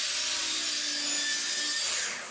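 A hand saw cuts into a board of reclaimed pallet wood, shaping rounded corners at its top end; a steady, continuous rasping stroke runs close and loud for about two seconds, with no talking.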